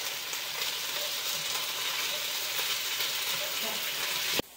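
Spices with ginger and garlic frying and being stirred in a pan for a potato curry, a steady close sizzle running throughout before cutting off abruptly at the end.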